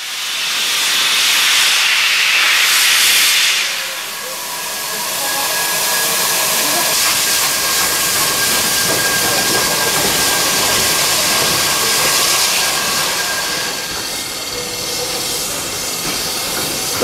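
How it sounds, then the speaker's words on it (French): A 141R steam locomotive at Amiens station, readying to haul its train, gives a loud sustained hiss of escaping steam that surges early, eases, then continues steadily, with a faint high whistle-like tone running through. "Gare d'Amiens, la 141R840 s'apprête à la relayer pour remorquer son train jusque Noyelles-sur-Mer."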